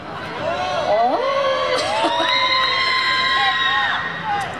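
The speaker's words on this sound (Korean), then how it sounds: "물 마시는 게 이렇게 환호 받을 일인지 처음 알았어요" A crowd at an outdoor charity festival stage in Seoul cheers and shouts as a singer drinks water, with high excited voices and whoops rising and swelling together for several seconds.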